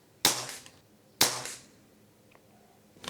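Two sharp cracks from a Weihrauch air rifle firing pellets into a target, about a second apart, each with a short decaying tail, close and loud with no talk.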